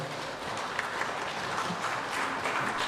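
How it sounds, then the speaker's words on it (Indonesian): A church congregation gives a sustained round of applause, dense even clapping from many people filling the space at moderate level, with no voices standing out. "Beri aplaus buat saudara kita."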